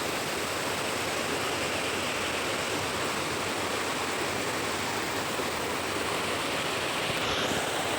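Continuous broadband rush of flowing water, steady and loud throughout, like a nearby stream or small cascade with no voices.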